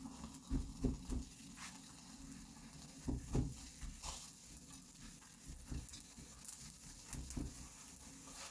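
Indian paratha flatbread frying in oil in a pan gives a soft continuous sizzle, broken by scraping and stirring taps as it is turned and brushed, fairly quiet and close.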